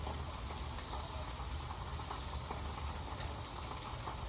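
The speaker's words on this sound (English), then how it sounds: "Get your bologna fried just a little bit. Get that char on both sides." Lightly seasoned bologna fries on a Blackstone griddle with a steady, loud, even hiss of sizzling that never lets up, and no voices over it.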